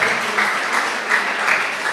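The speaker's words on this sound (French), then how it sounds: "Donc vous l'applaudissez." Sustained applause from an audience at a school quiz competition in Senegal, steady and dense for the full two seconds with no speech over it.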